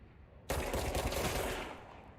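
Video game machine gun fire erupts suddenly about halfway through, a loud dense burst of rapid automatic shots that sustains and slowly tails off, with no talk over it.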